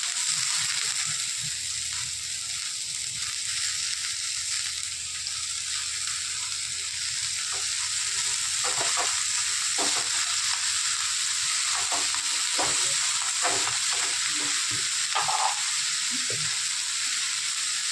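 Chigal greens go into a pan of onion fried until red and sizzle steadily up close, with occasional stirring clatters and scrapes in the second half, and no talking.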